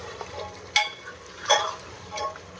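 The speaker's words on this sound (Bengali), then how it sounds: "এখন ঘুটে দেয় ভালো করে" Chicken is stirred in oil in a frying pan, giving a faint background sizzle and three soft scraping bursts as the spoon moves through the meat, with no talking.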